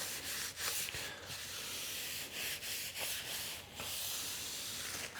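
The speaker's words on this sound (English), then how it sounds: "We can then just wipe up that internal face and remove any of that excess epoxy from there." A cloth wipes excess epoxy off the inner face of a sealed wood joint, giving a run of soft, close rubbing and swishing strokes in an irregular rhythm, alone and fairly quiet.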